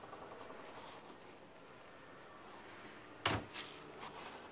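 A drawer in the kitchen of a 2018 Northwood Arctic Fox 27-5L fifth wheel trailer slides and thuds shut once, a short close knock followed by a softer rattle, against a quiet room with low background hum.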